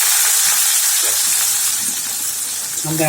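Onions go into a hot pan with vadagam and fry with a loud, steady sizzling hiss that swells right after they drop in, with a voice faintly heard near the end.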